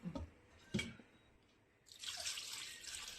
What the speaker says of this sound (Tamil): இன்னும் கொஞ்சம் தண்ணி நிறையா ஊற்றி கழுவணும்